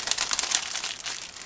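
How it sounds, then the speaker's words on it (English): A plastic bag holding the sprues of an Eduard 1/48 P-400 Profipack model kit is opened, giving a steady, close crinkling rustle for the whole moment, with no voices. "let's open this plastic bag and take a look at"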